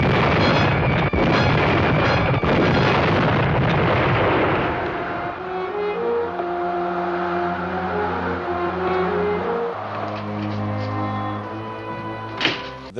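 Bombs explode in a TV episode as a loud, sustained roaring blast that gradually fades into a low rumble, followed by lingering tonal music-like hums and a final sharp burst near the end.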